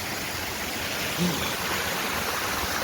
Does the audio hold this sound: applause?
no